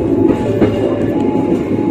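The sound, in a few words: train entering track 3 at Tarik station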